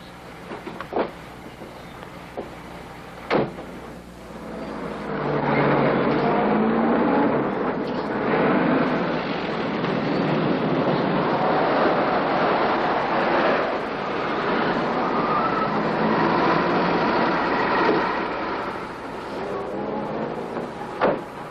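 A car engine from a 1949 film starts and the car drives off. After a few quiet seconds and faint knocks, a rough, muffled engine rumble rises and holds steady, loud and close, until the end.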